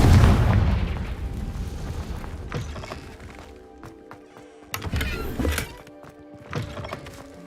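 A Confringo spell in Hogwarts Legacy lands as a loud booming blast, then dies away. Several smaller thuds and crackling bursts follow, spaced across the stretch.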